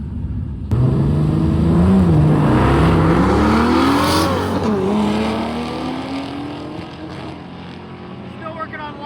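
A drag race car launches hard down the track, its engine roaring loud and close with a rising, wavering pitch as it pulls away, then fading over several seconds.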